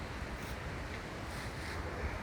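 Steady wind buffets the microphone at a beach house building site in Barbados, a constant close rushing roar with no talking.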